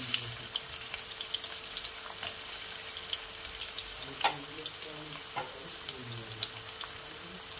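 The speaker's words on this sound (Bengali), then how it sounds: "এবারে আমি কিছু পেঁয়াজ কুচি দিয়ে দিলাম। এটাকে আমি লাইট ব্রাউন করে ভাজবো।" Chopped onion sizzling and frying in hot oil, a steady close crackle and hiss with faint stirring clinks, no talking.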